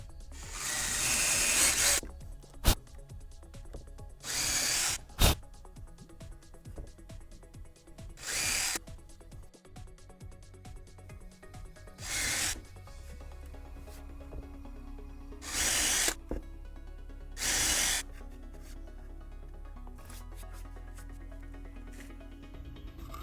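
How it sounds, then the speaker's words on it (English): An electric drill runs in a series of short bursts, each a few seconds long, with quiet pauses and small clicks between holes. "now I'm going to drill these 6 holes"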